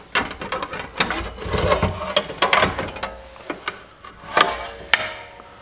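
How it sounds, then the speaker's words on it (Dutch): Blade guard on an HBM Dry Cutter de Luxe being opened by hand during a blade change: a string of close, sharp clicks, knocks and rattles at an irregular rhythm. "Je kunt de afscherming met de hand open doen."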